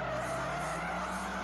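A car in FR Legends skids with a sustained tire squeal and engine drone, nearly spinning out in one brief, steady screech.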